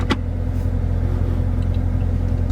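A Dodge Charger or Challenger engine rumbles in gear, a steady low drone close by with a brief sharp knock at the start.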